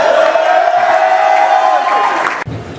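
Graduating class cheering and shouting as one loud crowd, a sustained roar of whoops and yells close by that cuts off sharply near the end.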